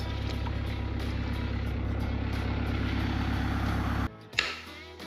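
A Zetor Crystal tractor engine runs steadily at a low, even idle, a loud continuous drone that cuts off abruptly near the end, followed by a brief clunk and quiet rattling.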